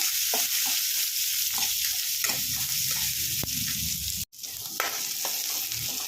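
Cumin and masala sizzling hard in a hot pan for hotel-style chicken sambar, a loud continuous fry with a few spoon scrapes and stirs cutting through, briefly dropping out for a moment.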